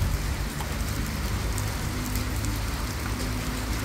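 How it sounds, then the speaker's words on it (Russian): Hail falling outdoors during a walk along a riverside embankment in Taraz, Kazakhstan: a dense, steady, loud patter of small impacts covering the whole stretch, with no voices. "А, даже град пошел."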